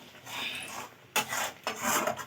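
A utensil scrapes and rubs through a thick chira sandesh mixture of flattened rice in a pan, in close, rough strokes with a brief pause between bursts.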